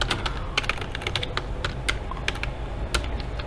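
Fast, steady typing on a computer keyboard, entering a search into Google, with dense clicky keystrokes running throughout and no talking.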